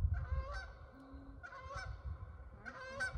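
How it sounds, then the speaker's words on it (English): Geese honking during a Mississippi waterfowl hunt, three clear bursts of nasal honks spaced a second or so apart, fairly close, over low rumbling background noise. "We had 3 geese come in."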